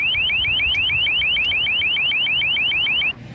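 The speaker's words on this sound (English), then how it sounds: "I'm about 100 yards away from the LRAD right now, and even at this distance, the sound pressure level is pretty intense" A long range acoustic device blares at high volume from about 100 yards away, a piercing rapid warble of rising chirps repeating about six times a second before cutting off abruptly.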